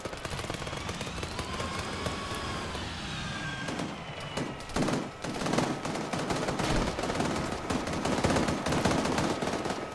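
Grenades thrown and exploding during a night operation in the military sim game Arma 3, with sustained loud gunfire and blasts filling the whole span and bursts growing denser in the second half.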